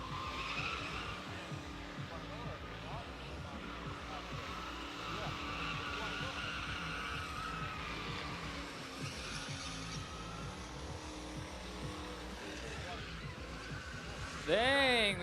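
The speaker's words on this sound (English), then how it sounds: "Dang, this thing is putting up some smoke. Ooh, I love this truck." A drift truck skids through a stunt show, tires squealing steadily under a loud, continuous engine roar, with a sharp rising squeal at the end; someone talks over it.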